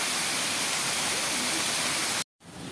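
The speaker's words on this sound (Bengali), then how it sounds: "প্রথম আসলাম পাহাড়ের ঝর্ণার সামনে" Waterfall at Batu Caves, Malaysia, roaring as a steady, dense broadband rush close by. It stays constant until a brief dropout near the end, then resumes.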